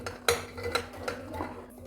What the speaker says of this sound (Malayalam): അപ്പോൾ കുക്കറിൽ ഇട്ട് കൊടുക്കുന്നത്